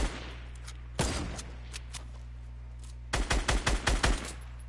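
Gunfire in the video game Fortnite: a sharp burst of shots at the start, a single shot at one second, then a rapid string of about eight loud, close shots near the end, over a steady low hum, with no talk.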